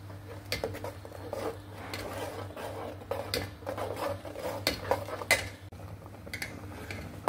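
A pot of boiling milk with vermicelli (semai) being stirred in, giving soft clinks and scrapes of a utensil against the pot with a steady low hum beneath, close and moderately quiet.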